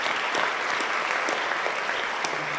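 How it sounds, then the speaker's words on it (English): At a school theater production of You're A Good Man Charlie Brown, an audience applauds the program and poster designer with steady, dense clapping. A few sharper individual claps stand out within it as it continues briefly. "I'd like to hold the applause to the end"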